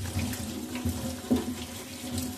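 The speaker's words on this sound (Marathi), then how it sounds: "गार पाण्याने अशी छान धुवून घ्यायची" Soaked soybean chunks washed under cold running tap water, a steady close splashing stream into a sink with small surges of water hitting the chunks, no talking.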